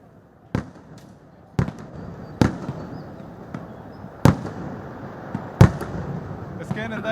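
Fireworks at the Thrissur Pooram display, lit by the Thiruvambady faction, go off as about six sharp, loud booms at irregular intervals over a steady crowd murmur.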